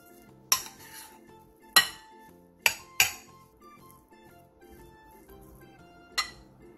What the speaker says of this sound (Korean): 볼에 밥 3공기와 소금 3분의 1스푼, 들기름 2바퀴, 통깨를 넣고 골고루 섞어주세요